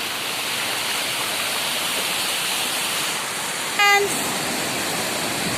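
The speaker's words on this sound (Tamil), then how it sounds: "சவுண்டுலாம் கேட்குதுங்களா தண்ணி அந்த அளவுக்கு ஃபோர்ஸாக போகுது" A steady, loud roar of rushing water fills the scene without pause, with a brief high tone chiming once near the end.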